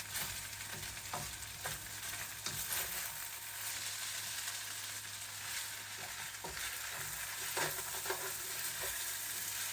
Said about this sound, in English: We are just going to stir this all around now